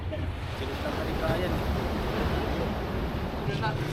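Ocean waves on Bagasbas beach in Daet, Camarines Norte, a steady rushing surf mixed with wind noise buffeting the microphone, continuous and fairly loud.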